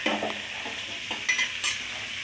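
Tomato chutney with dried red chillies is stirred in a hot pan, giving brisk close scrapes and clinks over a continuous bright sizzle, with two louder strokes near the end.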